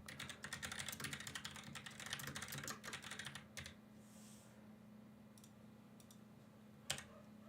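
Fast typing on a computer keyboard, a dense burst of clattering keystrokes for several seconds, then a pause with a few isolated key taps over a steady low hum.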